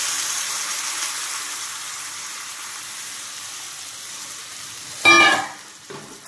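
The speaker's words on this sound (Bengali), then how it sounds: "আমি এখানে ঠান্ডা জল অ্যাড করছি" Cold water poured into a pan of taro curry frying in oil, giving a soft steady sizzle that bursts into a loud hissing gush for about a second before settling back down.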